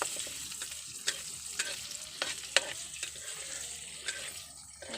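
Onion and garlic frying in rendered pork fat, a steady close sizzle broken by repeated scraping stirs and clinks of a utensil against the pan, no talk.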